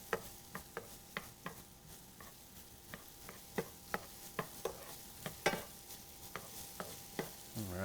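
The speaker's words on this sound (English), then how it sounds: "It's starting to sizzle well, and as you see, steam." Kohlrabi and onions sautéing in a pan over medium-high heat give a soft steady sizzle, punctuated by regular light taps and scrapes of a utensil stirring, fairly quiet and close.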